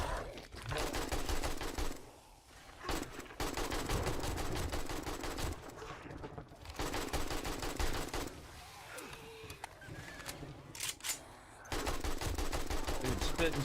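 AK rifle fire from the video game 7 Days to Die comes in several rapid automatic bursts separated by short pauses, loud and close, with faint game sounds between the volleys.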